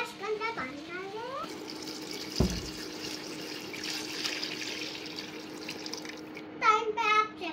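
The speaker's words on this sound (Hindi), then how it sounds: "अब जो है इसके अंदर पानी डाल दे" Water pours into a pot of chicken pulao as a steady, hissing stream. Someone talks briefly at the start and again near the end.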